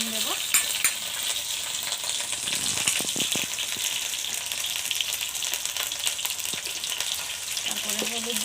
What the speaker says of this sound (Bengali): কাঁচা তেলে আলু ভাজলে বন্ধুরা কালারটা বেশ ভালো আছে।